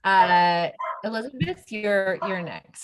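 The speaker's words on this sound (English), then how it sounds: "sorry for the barking dog" A pet dog barking indoors at home, several close yaps and bark-like calls in quick succession, mixed with a person speaking.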